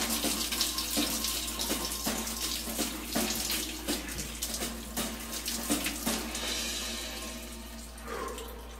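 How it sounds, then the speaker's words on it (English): Rusty water pours from a homemade soda-bottle shower, a close, continuous splashing stream with uneven spurts and spatters, fading slightly near the end. "dirty rust water shower again."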